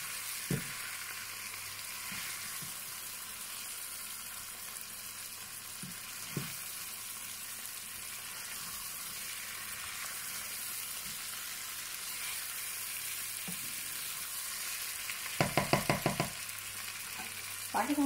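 Chicken pieces frying for achari chicken karahi, a low steady sizzle running throughout with occasional soft stirring taps and a brief burst of rapid clatter near the end, no speech.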